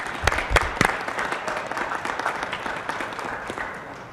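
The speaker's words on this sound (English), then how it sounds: "All right, one more round of applause." A city council meeting audience claps steadily for about four seconds, a few sharp louder claps near the start, then an even moderate patter.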